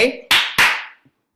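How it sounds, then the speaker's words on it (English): A teacher's double hand clap, two sharp close claps in quick succession right after a brief voice, ringing out crisply in a dance class room. "cuando aplaudo doble"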